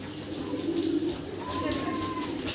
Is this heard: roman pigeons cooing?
yes